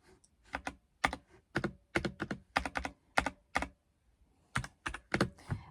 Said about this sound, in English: I got a proper clicky keyboard.